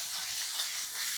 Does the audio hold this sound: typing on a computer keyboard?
no